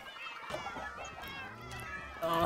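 Several cats in Minecraft meow in overlapping, repeated cries, close and fairly clear, with a voice speaking among them.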